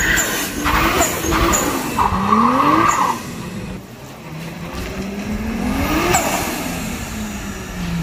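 A manual Lexus GS300 with a 2JZ-GTE VVT-i engine and R154 gearbox, built past 500 horsepower, revs hard several times, the pitch sweeping up and down in loud rising and falling pulls.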